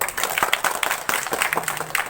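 Students at a volleyball physical education lesson clap their hands together, a close, busy patter of individual claps with no talking over it.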